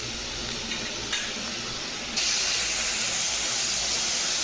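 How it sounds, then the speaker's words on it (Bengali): Spice paste for a fish curry frying in a pan, a steady close hiss and sizzle that grows louder partway through and then holds, with no talking. "এই মশলাটাই শুধু কষতে দেবো আর কিচ্ছু না"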